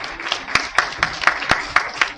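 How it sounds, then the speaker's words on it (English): Scattered hand claps from a small crowd welcoming a speaker to the stage at a summit, sharp and irregular, holding at a moderate level for a couple of seconds. "Give him a round of applause."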